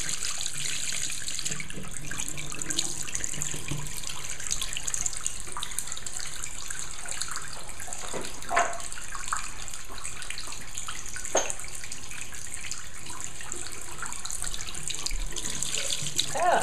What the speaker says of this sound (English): So I'm now going to run the tap.